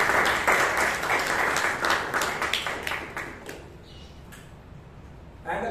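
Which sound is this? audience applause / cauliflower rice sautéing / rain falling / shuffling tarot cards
audience applause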